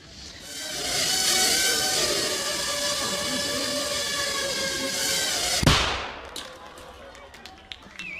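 A sustained whirring hiss builds and holds, then a tiny shaped charge holding 3 grams of explosive goes off in one sharp, short bang, with faint clicks and a voice after it.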